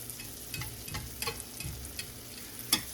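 Thin-sliced beef sizzles and crackles in a pan, a quiet steady frying hiss with scattered pops and occasional scraping stirs, and one sharp tick near the end.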